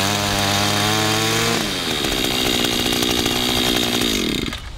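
A gas-powered yard tool engine, chainsaw-like, runs at full throttle, a loud close buzzing whine that holds steady, drops in pitch partway through, then fades slightly at the end, with no speech.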